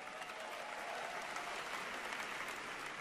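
A crowd claps and cheers in steady, dense applause, heard on its own without any talk.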